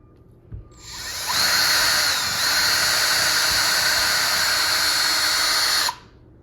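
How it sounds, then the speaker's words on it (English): Power screwdriver boring a pilot hole for hanging a canvas, a single loud whining burst lasting about five seconds, starting and stopping abruptly. "I got to use my screwdriver with the pilot hole"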